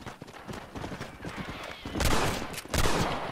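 A horse in the Red Dead Redemption video game whinnies loudly while hooves clip-clop on the ground, with a busy game soundscape and two louder bursts near the end.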